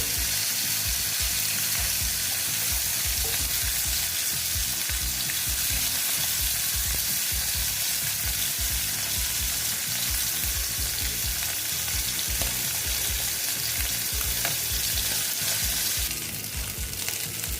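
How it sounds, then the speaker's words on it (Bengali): Four koi fish fry together in a pan, crackling and sizzling loudly and steadily up close, with a busy bubbling texture that carries through to the end. "চারটায় একসঙ্গে ভেজে নিচ্ছি আমি"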